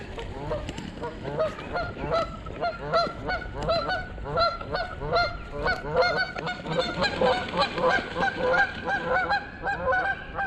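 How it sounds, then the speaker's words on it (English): Waterfowl at the edge of a shallow bass-fishing spot give loud, repeated honking calls in a busy overlapping chorus that runs the whole time, fairly close. "Freaking ducks, man."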